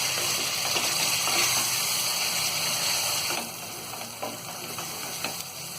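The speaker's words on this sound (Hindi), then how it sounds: "अब हम इसे जब तक भूनेंगे जब तक कि टमाटरों का पानी सूख नहीं जाता है।" Ground tomatoes fry in a pan for a dum aloo gravy, giving a steady loud sizzle and bubbling that eases slightly partway through, with a few faint stirring scrapes and no speech.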